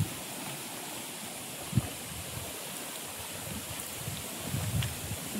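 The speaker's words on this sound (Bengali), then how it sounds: "হালকা ঝোড়ো হাওয়া হচ্ছে, যে কারণে নদীতে বেশ ভালোই ঢেউ, ঢেউয়ের শব্দও শুনতে পাচ্ছেন নিশ্চয়ই।" Gusty wind sweeps over a river in the Sundarbans, stirring waves into a continuous broad rushing wash with occasional low thumps, and no voices.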